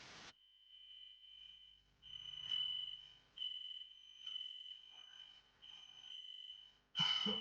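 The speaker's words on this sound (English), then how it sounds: "Sounds like a fire alarm." A shrill fire alarm tone sounds almost continuously, cutting out briefly a few times before resuming, steady and piercing with faint background rumble.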